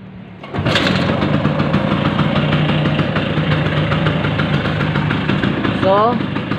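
A Vespa PX150 scooter engine sputters to life and settles into a steady, loud idle close by, with a brief rising rev near the end.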